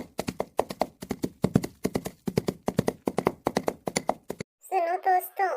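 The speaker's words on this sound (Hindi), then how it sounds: "तभी वहां पर भागते हुए एक बकरी आती है।" Rapid rhythmic clip-clop of a goat's hooves running in a steady galloping pattern, fairly close, followed by a brief animal-like bleating voice at the end.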